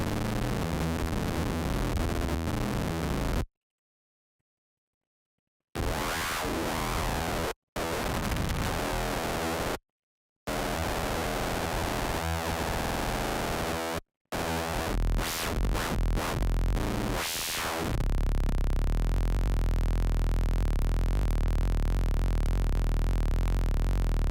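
Harsh, buzzing FM synthesizer tones with metallic, phase-distorted harmonics, played in bursts separated by short silences, ending in a sustained noisy wash.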